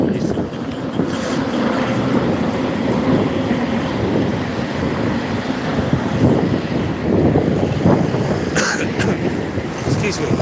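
Bitter wind blowing outdoors in Helsinki, a loud steady roar buffeting the microphone throughout, with faint talk buried beneath it.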